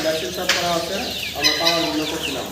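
Fancy chickens on a farm give repeated clucks and short calls at close range, with one sharper squawk standing out among the steady chatter of the flock.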